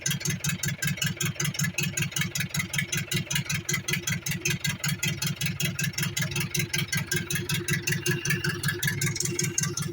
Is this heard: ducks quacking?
no